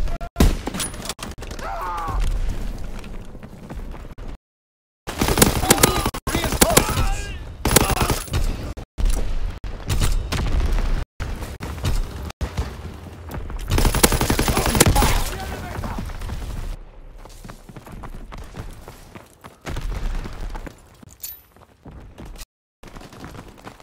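Repeated gunfire bursts crackle through a Call of Duty: WWII battle, loud volleys broken by short gaps, with voices shouting over the shooting.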